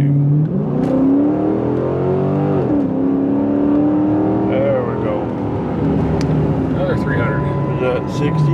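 A car accelerates hard uphill on a public road from inside the cabin, the engine note climbing steadily through gears with shifts, loud and continuous.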